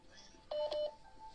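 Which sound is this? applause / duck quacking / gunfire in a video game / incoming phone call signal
incoming phone call signal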